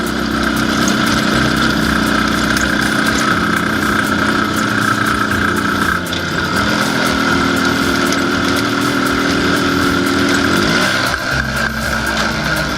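An IZh Planeta 5 motorcycle engine drones loud and close while riding, its steady tone dropping and shifting abruptly as the gear pops out, with no talking.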